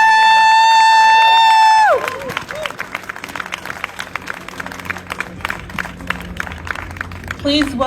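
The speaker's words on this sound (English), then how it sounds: "let's give them another round of applause" A crowd at a Juneteenth march and rally cheers and claps loudly. A sustained tone cuts off at the start, then dense applause and whoops continue to the end.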